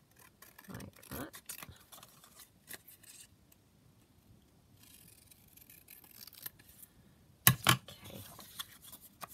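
Scissors snipping colourful paper for a junk journal: a few quiet, scattered cuts followed by one sharper cluster of snips near the end, with a brief spoken word.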